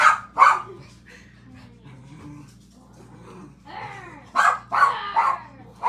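Two dogs, an older female and a young male puppy, bark in sharp bursts at the start and again near the end, with softer whimpers and yips between, fairly close over a low steady hum.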